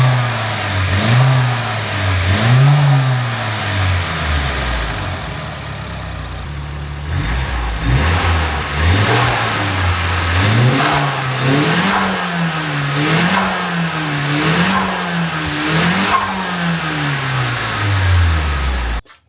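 A car engine fitted with an aftermarket intake in place of the stock airbox revs repeatedly from idle. Loud rising and falling sweeps sound close up, several in quick succession toward the end.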